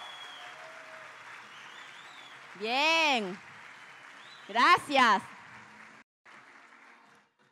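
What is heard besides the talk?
audience applause for people standing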